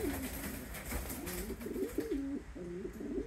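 Racing pigeons coo softly in a loft, a run of low repeated rolling coos, moderately close, over faint background noise and a brief flutter.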